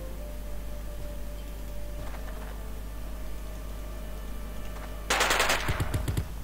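A short automatic burst of gunfire in Jagged Alliance 2 sounds over a steady game hum, then several lower thuds follow. The rapid shots are fairly loud and arrive only after about five seconds of quiet background.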